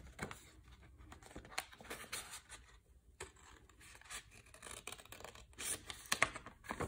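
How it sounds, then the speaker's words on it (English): Scissors snip along a line in paper while a horizontal slider is made for a children's design and technology project, giving a series of quiet, irregular crisp cuts and rustles up close. "insert your scissors into that little hole and continue to cut along the line carefully"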